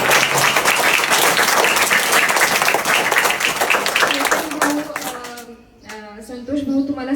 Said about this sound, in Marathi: ह्या वर्चस्व ग्रुपच्या सगळ्याच मेंबर्स करता एक जोरात टाळ्या वाजवून त्यांचंही मनापासून कौतुक करावं